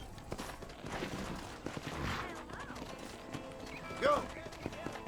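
Horse hooves clip-clop in a steady rhythm with a brief whinny in the video game Red Dead Redemption, while a person talks over the top throughout.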